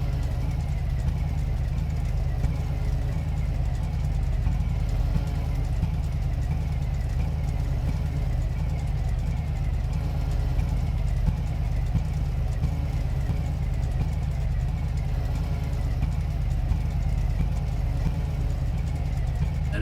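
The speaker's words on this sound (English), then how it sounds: "Engine sounds like it's kind of choppy" A game car engine idles roughly with no exhaust fitted, a steady low choppy drone running loud and unbroken throughout with no other sounds on top.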